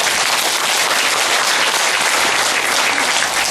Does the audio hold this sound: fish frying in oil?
no